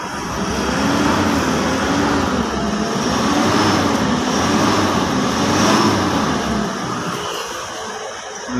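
A Mitsubishi Strada engine, stalling often from a dirty fuel tank, runs steadily at about 2,000 RPM with a loud, even drone and a slowly wavering hum that eases off near the end.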